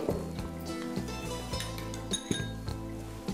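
Metal pressure cooker set down on a home kitchen stove, giving a few close, bright clinks and knocks of metal on the burner grate, loud and without talk.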